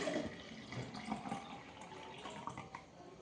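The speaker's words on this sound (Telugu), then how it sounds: "నేనైతే 200 వరకు వాటర్ అయితే పోసుకుంటున్నాను" Water poured into a shake container, roughly 200 ml, a soft, continuous trickle and splash that is faint and close, with the flow slowly tapering off.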